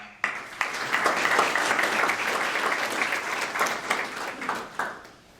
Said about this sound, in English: So we'll give them another clap.